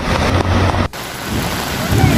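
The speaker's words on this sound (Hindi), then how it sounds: "मुंबई में लगातार बारिश हो रही है" Heavy, continuous rain in Mumbai makes a dense, steady rushing hiss, broken by a brief dip before the downpour roar resumes, loud and enveloping.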